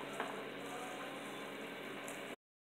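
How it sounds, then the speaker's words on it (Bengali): Whole olive pickle simmers slowly in melted sugar syrup, giving a steady, soft bubbling hiss with faint pops that continues evenly before cutting off abruptly. "এটার ভিতরেই আচারটা সিদ্ধ হবে অল্প আছে ধীরে ধীরে সিদ্ধ করব আমি"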